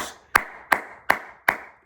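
Five slow, evenly spaced single hand claps, sharp and close, with no voices, at a tribute to former Wyoming congressman Dick Cheney.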